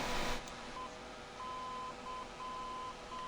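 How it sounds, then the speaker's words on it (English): Short and long tones of Morse code beep in a Boeing 707 flight simulator game, thin and repeated over a constant rushing cockpit noise, with no one talking. "Why is it playing a Morse code message?"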